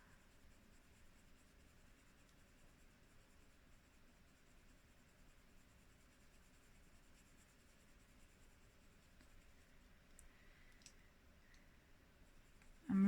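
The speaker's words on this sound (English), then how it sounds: "It might sound like I'm pushing hard, it's just the sound of the paper." Soft pastel being worked onto paper in small circular blending strokes while drawing an English Spaniel, giving a steady, faint scratchy rubbing that continues evenly throughout, close up, with no talking.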